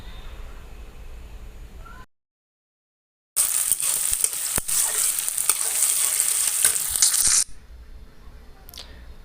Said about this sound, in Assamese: পিঁয়াজ আৰু কেঁচা জলকীয়াখিনি মই ভালদৰে ভাজি ল'ম